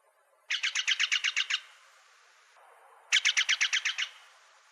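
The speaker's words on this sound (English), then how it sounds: "Jays are the noisy sentinels of the woods, letting other creatures know when predators are around." A Steller's jay on Vancouver Island gives two rapid series of harsh, evenly spaced notes, about eight each, separated by a short pause, loud and clear against a quiet background.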